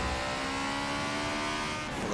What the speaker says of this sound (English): It's a Sauber C9.